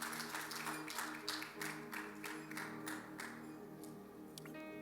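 A church congregation applauds for the Lord, a sustained wash of many hands clapping at a distance, fairly faint, thinning out toward the end.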